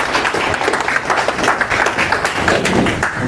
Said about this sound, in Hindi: एक बार फिर इनके लिए जोरदार तालियां